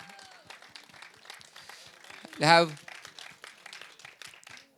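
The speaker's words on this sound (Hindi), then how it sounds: "बहुत सारी तालियां सर" Audience applause bursts briefly at a film trailer launch event for Son of Sardaar 2, a short loud swell rising over a host's continuous speech and fading quickly.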